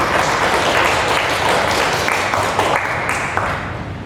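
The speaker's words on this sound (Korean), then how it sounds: "박수로 맞으시면 고맙습니다" An audience at an academic conference applauds to welcome a speaker, a loud, dense, continuous roll of clapping that stays full and begins to thin toward the end.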